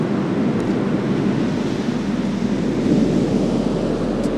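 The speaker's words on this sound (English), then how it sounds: "The swell's so big that it's going to come and wash away any footprints of the joggers" Big ocean swell breaks on the beach at Whitley Bay, a loud continuous roar of surf mixed with gusty wind buffeting the microphone.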